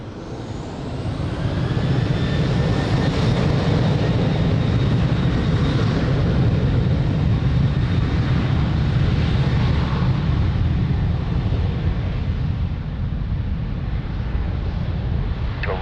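Airliner taking off from runway 02 at Lisbon Airport, a loud broad jet roar building within the first second and holding steady, then slowly easing as it climbs away.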